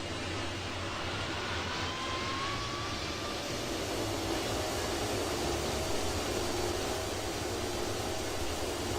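Boeing 727 jet engines in a flight simulator game drone as a steady, broadband roar, loud and unbroken throughout, with a faint rising whine and no voices.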